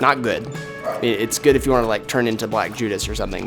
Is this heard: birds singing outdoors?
no